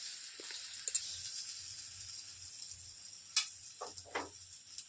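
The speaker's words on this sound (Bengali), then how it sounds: "মশলাটাকে পুরো ভাজা ভাজা করে নিয়েছি।" A spice mix with chili powder fries in a pan for a palak paneer recipe, giving a faint, steady sizzle with a few light clinks and stirring scrapes close by.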